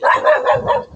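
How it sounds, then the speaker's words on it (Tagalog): A dog barks in a quick run of loud, close yaps and bow-wows through the whole second, with one short pause near the end before another bark. "Pasensya na po sa aso, ha?"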